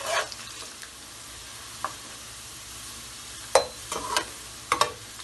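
Onions frying in a pan until golden for Lahori murgh cholay give off a faint, low sizzle, broken by a few sharp stirring scrapes near the end.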